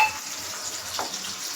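Fish frying in a pan makes a soft, steady sizzle up close, with one brief louder hiss partway through and no talking.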